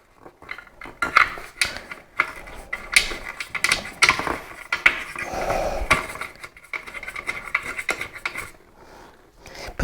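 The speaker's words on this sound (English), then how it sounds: "I'm going to put all the bottom screws in first, and then I'm going to put the top screws in" Screws go into a ceiling fan mount during installation, giving a run of light metallic clicks, scrapes and taps close by, irregular and fairly quiet.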